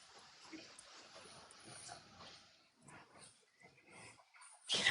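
Dogs whimper faintly in soft, broken whines at a distance, ending in a sudden loud burst of noise.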